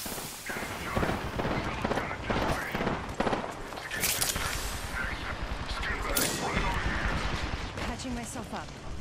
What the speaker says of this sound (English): Shots fired and they hit me